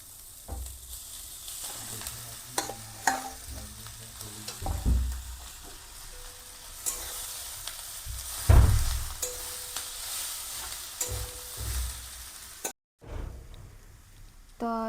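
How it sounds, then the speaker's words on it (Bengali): Potatoes added to a pan of already-fried capsicum for a crispy Bengali potato snack, sizzling and frying with stirring scrapes and clatter throughout, moderately close, with occasional louder knocks of a spoon against the pan. "ক্যাপসিকামটা ভাজা হয়ে গিয়েছে, তো আমি আলু দিয়ে দিচ্ছি"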